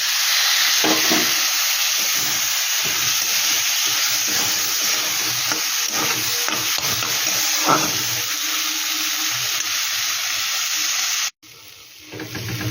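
Steady loud sizzling fills the pan as a splash of water hits frying spice masala with green chilli for egg pulao, with faint stirring clatter underneath; the hiss runs continuously, then cuts off abruptly near the end.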